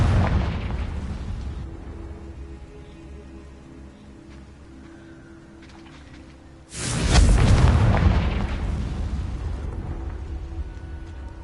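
A Confringo blasting spell bursts in the Hogwarts Legacy video game, a loud booming explosion that swells suddenly partway through and rumbles on after, over a busy background of game sound.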